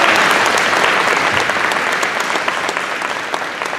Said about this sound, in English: so please help me give them a round of applause